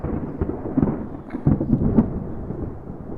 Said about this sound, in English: There's a thunder rumbling.